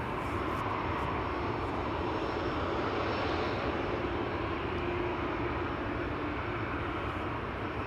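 Vueling airliner on flight 8352 to Valencia at Amsterdam Schiphol, heard as a steady, fairly distant engine roar that stays even and unbroken throughout.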